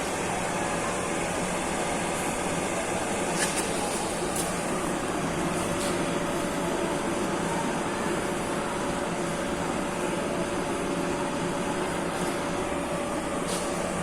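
Blower on a wood gas stove fueled by white charcoal, running at half speed, giving a steady, even whirring hum of rushing air with no break, alone and moderately loud.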